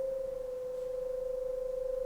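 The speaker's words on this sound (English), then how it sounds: "Pay attention to the two tones." Two pure electronic tones sound together in a dissonant pairing, one steady hum with a slow beating wobble that grows toward the end.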